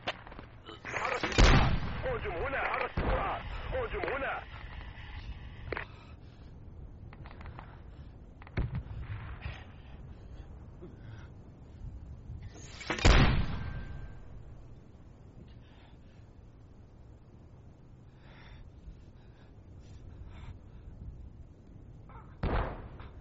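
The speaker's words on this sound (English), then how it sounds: "Hit this mark with mortars, guys." Mortar fire in a military video game: a few loud, heavy booms spread over the stretch, each followed by a rumbling tail, with quieter thuds between them and a voice talking now and then.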